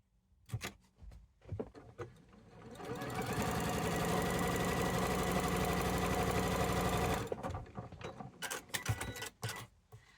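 A sewing machine runs a steady buzzing stitch for about four seconds while seaming a quilt block, framed by clicks and handling noises of fabric and pins before and after.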